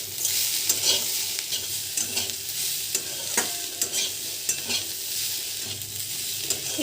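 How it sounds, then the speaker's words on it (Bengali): Cauliflower and potatoes stir-fried over a high gas flame, a steady close sizzle broken by repeated scrapes and stirring knocks of a spatula in the pan, with no talking. "এই সময় গ্যাসের ফ্লেমটা বাড়িয়ে একটু ভেজে নেব"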